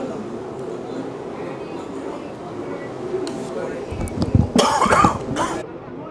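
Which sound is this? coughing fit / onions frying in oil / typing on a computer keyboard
coughing fit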